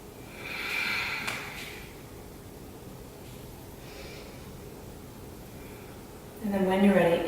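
Deep, slow breathing during a hip-opening yoga routine, a soft, airy exhale rising early on, then quiet steady breath noise, before a voice starts talking at the end.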